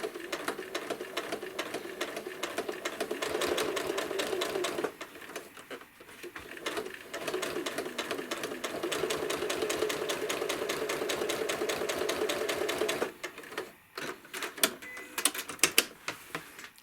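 A sewing machine stitches a slow, gradual curved quilting line on an apple core quilt, running in a steady continuous whir with a couple of short pauses and a few light clicks near the end.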